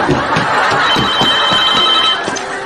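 Telephone ringing on a Japanese comedy show, a continuous trilling bell repeating steadily and fairly loud for the whole stretch, with no talk.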